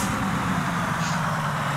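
Truck engine in Euro Truck Simulator 2, running as a steady low diesel drone with faint high hiss, even and continuous throughout, with no distinct start-up crank.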